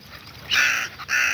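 Two harsh caws from a nearby crow, the second following shortly after the first, over quiet background.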